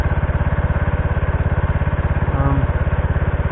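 A 1974 John Deere 140 H3 lawn tractor engine runs close by at a steady idle, its rapid even low thumping pulses continuing throughout, with a brief higher whine near the end and no voices.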